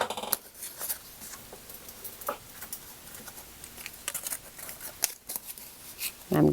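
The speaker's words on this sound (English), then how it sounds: "I'm going to use my pointy scissors." Pointy scissors cut a paper petal for a paper Easter rose, giving a few soft crisp snips and rustles of paper up close at a quiet level.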